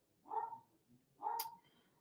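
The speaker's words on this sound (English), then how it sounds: "Sorry you hear the dog barking in the background, by the way." A dog barks twice in a home, two separate short barks about a second apart, fairly faint and heard alone in a quiet room.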